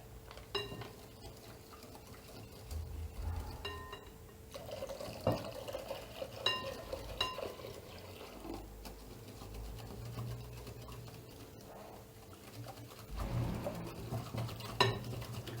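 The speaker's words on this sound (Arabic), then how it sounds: "غادي نخلطو مزيان" Spoon stirring homemade yogurt mixture with sugar and vanilla in a pot, soft intermittent clinks and scrapes against the metal with faint liquid sloshing, quiet and close.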